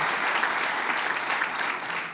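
A congregation at a Sunday church service claps in a strong, sustained burst, a thick, even roar of applause running throughout without a break.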